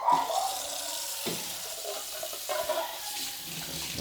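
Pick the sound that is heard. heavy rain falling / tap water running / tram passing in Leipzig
tap water running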